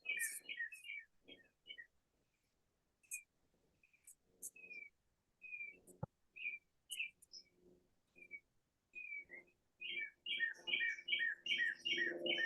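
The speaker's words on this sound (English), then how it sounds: "oh yeah, the birds. The birds, I forgot." Small birds chirp and tweet outdoors in repeated short bursts at moderate distance, with quieter gaps between calls and a denser flurry of chirping toward the end, plus faint background rustle.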